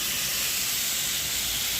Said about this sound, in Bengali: এবার আমরা পেঁয়াজ টমেটোটা দিয়ে দেবো তেলেতে।